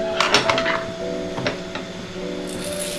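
Coriander seeds being dry-roasted in a pan on a gas stove for panjiri make a few quick metallic clinks and scrapes as they are stirred, over a steady faint hiss, close and moderately quiet.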